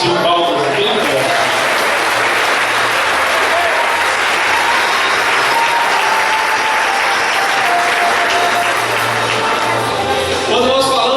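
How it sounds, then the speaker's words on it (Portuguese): A church congregation at a prophets' school seminar claps loudly and continuously for over ten seconds, a thick, even roar of palms with music and voices faintly underneath. "Se você crê no louvor, de palmas bem forte."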